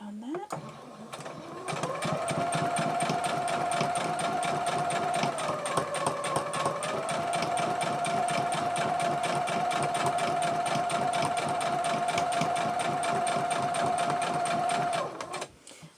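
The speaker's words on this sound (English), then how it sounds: "I'm going to sew a 1/4 inch along the side" Sewing machine stitching fabric pieces for face masks, a fast steady mechanical whir with rapid needle clatter, running continuously for about fourteen seconds, close and clear.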